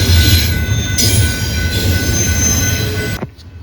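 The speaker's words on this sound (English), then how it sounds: "causes the flanges to scrape against the outer rail and make a horribly ear-rending screech" Loud, sustained high-pitched squeal of an intermodal freight train's wheel flanges scraping the outer rail on a curve in Minot, North Dakota, layered over heavy rumbling, cutting off abruptly near the end.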